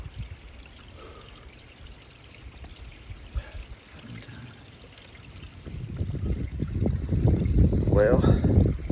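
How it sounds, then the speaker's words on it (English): Fresh mountain stream water pours close by on the Appalachian Trail, a faint trickle at first, then a loud, steady splashing pour that swells over the last few seconds. "Fresh mountain water. Get it myself from the mountain stream."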